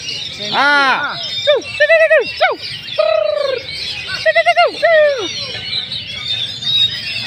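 Clear whistled calls and cooing phrases from a kacer songbird at a bird-singing contest ring out in short bursts over a busy outdoor field background with a faint murmur of people.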